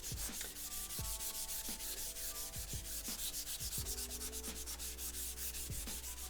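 Nagura stone rubbed back and forth across a 5000 grit whetstone, a gritty scraping stroke repeated in an even rhythm, close and steady with no talk.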